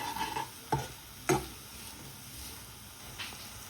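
Spices with turmeric stirred and frying in a pan for Punjabi samosa filling, a soft continuous sizzle punctuated by two crisp scrapes of the spoon and a fainter tap later, with no speech.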